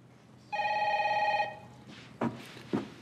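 A telephone rings once in a loud, bright electronic burst lasting about a second, followed by quiet room tone and two soft knocks, with no voices.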